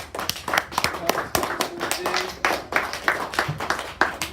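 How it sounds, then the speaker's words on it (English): A small group at a public speaking school event applauds together, quick uneven claps close to the listener lasting several seconds. "Let's just please give a round of applause to everyone"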